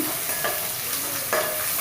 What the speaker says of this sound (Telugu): ఆయిల్ వేసుకొని ఆనియన్స్ వేసి